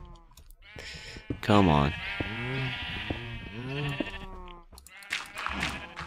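Sheep in the Minecraft video game bleat repeatedly, several loud wavering cries following one another, while someone talks briefly over them.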